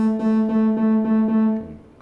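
A steady FM synthesizer tone with a filter softening it, held at an even level with a soft pulsing rhythm roughly every quarter second before it fades out near the end.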